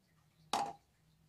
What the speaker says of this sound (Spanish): Vamos a ponerle limón,